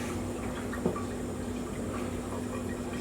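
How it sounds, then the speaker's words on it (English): A little water, about an inch, is poured into a homemade bald-faced hornet trap as a faint, steady trickling hiss. "we're going to put a little water in"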